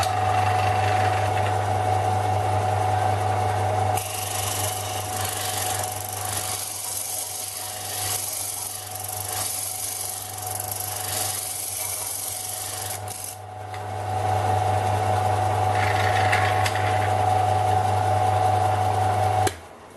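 A Vevor bench-mount belt and disc sander running, a steady motor hum with a constant whine under a continuous rasping grind, holding evenly until it winds down at the end.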